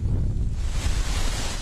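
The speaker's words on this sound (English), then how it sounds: "Wind whipped flames pushing once again across the landscape" Strong wind gusts of up to 45 mph blow during a wildfire in Simi Valley, Southern California: a dense, continuous roar of rushing air buffeting the microphone, heard alone.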